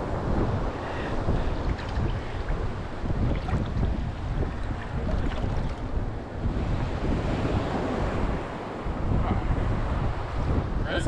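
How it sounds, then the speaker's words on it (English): Big ocean waves crash and roar continuously on a beach in Barbados, loud and close, with heavy wind buffeting the microphone throughout and no pauses. "There's some big old waves over there."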